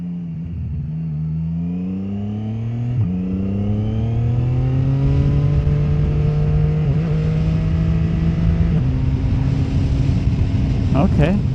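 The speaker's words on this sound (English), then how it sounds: "Let's do a little pull real quick." A CF Moto 675 motorcycle engine revs up hard through rising pitches, with a gear change around three seconds and another later, loud and steady as the bike accelerates from the rider's position.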